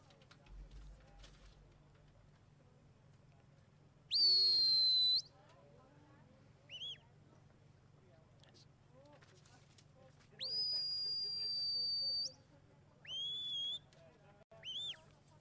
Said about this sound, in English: Got that wonderful underwater whistle that some of the top handlers do.